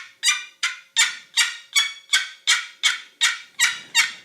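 A person imitates a hen turkey calling, giving about ten sharp, evenly spaced yelps in a steady rhythm, each one loud and close, with nothing else heard between them.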